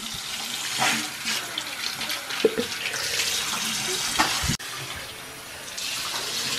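A tap runs in a sink while a facial mask is washed off, giving a steady splashing rush with scattered knocks and a brief break near the end. No voices are heard.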